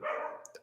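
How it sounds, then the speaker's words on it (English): A dog gives one short, muffled bark or yelp, moderately quiet and slightly distant in an indoor room, with no talk over it. "sorry about my dog."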